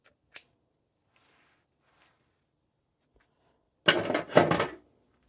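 Scissors snip a hanger loop off a tart tin ornament, one sharp click followed by a couple of louder crunching cuts close by in an otherwise quiet room.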